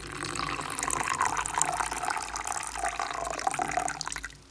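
Water pours steadily into a tarantula's small water dish, a continuous close splashing trickle that runs for several seconds before cutting off abruptly at the end.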